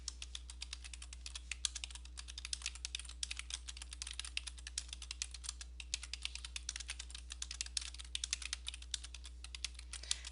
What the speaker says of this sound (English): press the space bar 1 time and keep typing